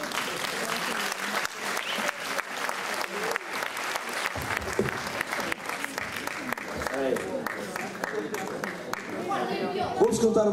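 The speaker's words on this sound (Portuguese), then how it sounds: "Uma salva de palmas, é bonito" Audience clapping for a comic performer at a music festival, sustained dense applause running the full stretch with scattered crowd chatter mixed in.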